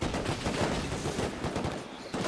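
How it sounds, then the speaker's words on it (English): Gunfire in the survival game Rust, dense overlapping bursts of rapid shots crackling continuously at moderate loudness with no pauses, like a fusillade during a firefight. "Yeah, we're shooting them"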